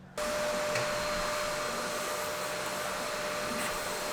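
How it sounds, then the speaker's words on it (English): A vacuum cleaner sucks coffee grounds off an espresso grinder and its catch tray, kicking in abruptly and then holding a steady, fairly soft whine-and-rush drone with no talking. "I might as well just go ahead and vacuum the rest of the stuff that's sitting on the grinder here"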